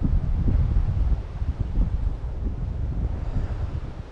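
Steady wind buffets the microphone outdoors while steelhead float fishing, a low, rumbling roar in irregular gusts, loud throughout and with no voices.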